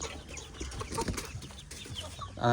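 Chickens clucking outdoors after rain, a few close, short clucks over a damp, rustling background with no talking.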